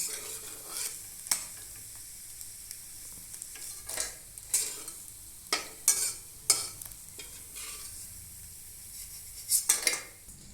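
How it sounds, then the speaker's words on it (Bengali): Small fish frying in a pan as they are lifted out, a continuous sizzle broken by sharp metallic clinks and scrapes of a utensil against the pan, close and alone without speech. "বাকি মাছগুলো ভাজা হয়ে গেছে, এবার তুলে নিচ্ছি।"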